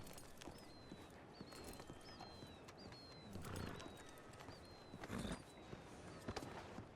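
A horse walks along in Red Dead Redemption 2, its hooves clip-clopping in a steady close rhythm, with repeated bird chirps above and a few louder thuds, no talk.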